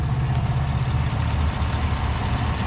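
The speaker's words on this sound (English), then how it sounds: "Right now it's just probably running on 4 cylinders, idling away real smooth here." A 2018 GMC Yukon XL's V8 idles smoothly and quietly with the hood open, a steady low rumble that holds even and near for the whole stretch, with no voices.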